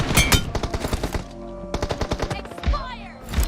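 Rapid automatic gunfire in the video game PUBG, bursts of sharp close shots in quick rhythmic strings separated by short pauses, with a few game sound effects mixed in.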